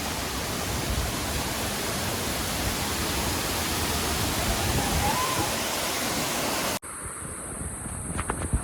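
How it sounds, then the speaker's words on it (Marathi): Heavy rain pours at Mangeli waterfall in Dodamarg, a dense, steady roar of falling water blown by wind, loud and continuous before cutting abruptly to a thinner hiss near the end. "हे बघा पाऊस पण जोरात आलाय"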